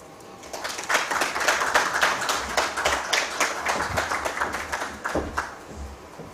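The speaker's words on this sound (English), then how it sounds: "Another round of applause, ladies and gentlemen." Sustained audience applause at a green finance conference in Malawi, many hands clapping steadily for several seconds in a hall, with no talk over it.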